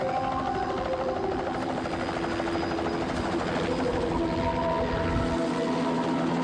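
A loud, steady helicopter drone with thudding rotor blades runs continuously throughout, close and unbroken.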